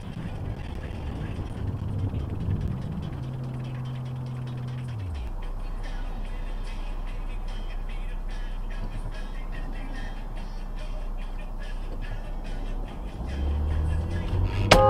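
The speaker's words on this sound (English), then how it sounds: "That's two cars now." Cars on a highway on-ramp make a continuous rumble of passing road traffic, first at a middle distance and then louder and closer near the end as a vehicle approaches.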